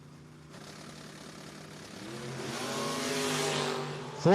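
Drag race cars, including a Camaro, rev and launch down the strip at a No-Box 660 Shootout, engines swelling from a distant rumble to a loud rising roar, with a sharp burst close by at the very end.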